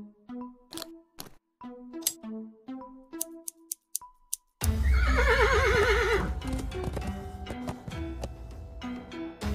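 A horse whinnies loudly in the adventure game Willy Morgan and the Curse of Bone Town, a long wavering neigh that follows a few clip-clopping hoof steps and short tones, with steady game ambience underneath.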